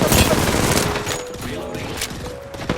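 Gunfire in the video game Apex Legends, a dense, continuous rattle of rapid shots that lasts the full few seconds at fairly loud level, with faint voice lines underneath.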